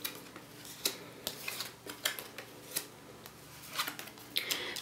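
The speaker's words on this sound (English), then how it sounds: "Let's lay the cards out and see what's in store for you." Tarot cards are laid out one by one on a table for a reading, giving soft, close snaps and flicks at an uneven pace with no talk.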